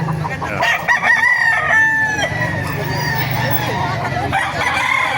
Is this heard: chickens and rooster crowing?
yes